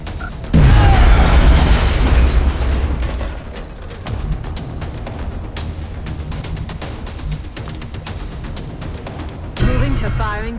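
A grenade detonates in XCOM: Enemy Unknown with a loud, deep boom that rolls into rumbling debris and crackling aftershocks, followed by a second burst near the end, while someone talks over the game audio.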